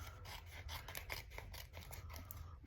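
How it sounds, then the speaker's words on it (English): Scissors fussy cut around a vellum-covered trading card with rapid, steady snipping and rasping close up. The strokes come in an even rhythm over a low background hum. "Okay, now I'm going to flip it over and we're going to fussy cut around it."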